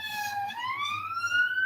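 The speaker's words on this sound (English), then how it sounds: "as you can hear a police siren in the background" A police siren wails in the background, one slow rising tone sweeping upward over about a second and a half, moderately loud over a low hum.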